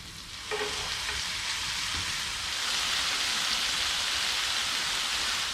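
Chopped vegetables tipped into a hot pan for chicken curry, bursting into a loud, steady sizzle that holds and thickens, heard close with no talk.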